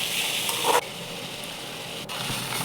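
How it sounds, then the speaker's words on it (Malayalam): Chopped tomatoes sizzle while being sautéed in a pan for tomato coconut chutney, a steady quiet hiss with a brief stirring scrape, close by and with no talk. "നമ്മൾ അരിഞ്ഞു വച്ചേക്കുന്ന തക്കാളിയും കൂടെ ഇങ്ങോട്ടിട്ട് നല്ലതായിട്ടൊന്ന് വഴറ്റിയെടുക്കാം"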